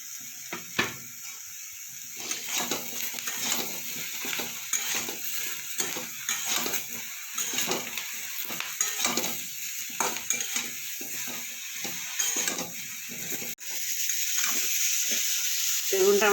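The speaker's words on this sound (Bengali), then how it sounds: "বেগুনটা আমার কিছুটা ভাজা হয়ে গেছে।" Eggplant frying and being stirred in a pan of oil while cooking a mourola fish curry with potato, with a steady sizzle under repeated scraping stirs and occasional clinks of utensil on pan.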